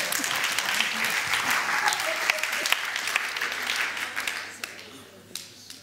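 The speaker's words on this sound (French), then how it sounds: "Vous pouvez les applaudir quand même." A congregation at a French-language sermon claps together, a crowd applause that is moderately loud and slightly uneven, gradually thinning out and fading toward the end, with a voice faintly mixed in.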